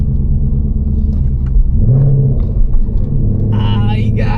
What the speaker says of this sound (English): You said you got automatic rev match too?